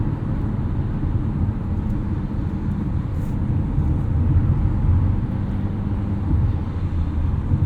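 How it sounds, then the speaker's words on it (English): A 2020 Mazda CX-5 Signature Turbo AWD engine holding higher revs through hard cornering, heard as a steady low drone under road and cabin noise. "You can hear there the engine holding the revs up a little bit higher, knowing that we're cornering a little bit harder."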